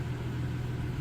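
A 2016-2023 Toyota Tacoma idles nearby, giving a quiet, steady low engine rumble with no talking.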